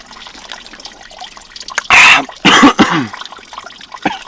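A person coughs and sputters hard after water goes down the wrong pipe, two loud harsh bursts close up, followed by quieter throat noises.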